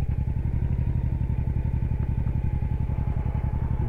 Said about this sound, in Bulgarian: Значи, този мотор е доста тежък. 270 кг.